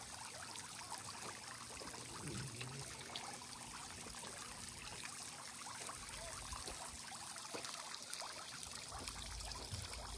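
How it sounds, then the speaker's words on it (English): A small backyard pond fountain trickles and splashes steadily, a soft, continuous watery patter heard from a short distance with no voices. "I got the fountain adjusted and running."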